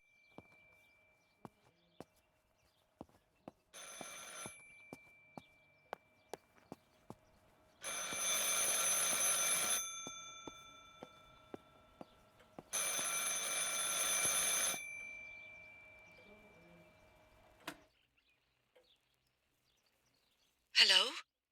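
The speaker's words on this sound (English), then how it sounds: "I should pick up the phone but remain silent." A telephone rings inside the horror video game Martha is Dead, with two long, loud bursts of bright ringing separated by a pause, set among sparse clicks and faint game ambience, then a short final burst.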